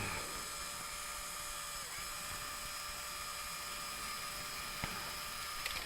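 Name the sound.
powered screwdriver removing screws from lower links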